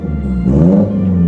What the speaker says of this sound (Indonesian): Dan ini tentunya gue coba sedikit gas guys, biar kalian bisa dengar suara dalam kabin expander gue gimana.